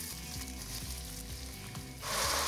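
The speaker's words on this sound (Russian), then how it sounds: "Можно его обжарить, чтобы он стал золотистого цвета." Onion sizzles steadily in hot vegetable oil in a pot, a close, continuous frying hiss that grows louder and brighter near the end, with no talking.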